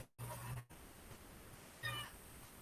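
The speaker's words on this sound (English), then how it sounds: "I fed the cats earlier so that they wouldn't be whining." House cats whine with a couple of faint, drawn-out meows, one near the start and another toward the end, over a low quiet room background.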